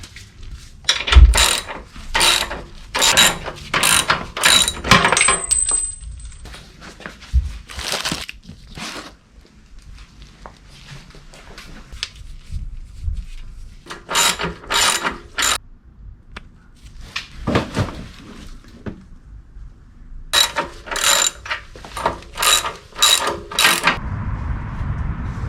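A ratchet wrench tightens the rear shock bolts on a Harley FLH motorcycle: repeated bursts of rapid metallic clicking, close and loud, separated by short pauses, with no speech.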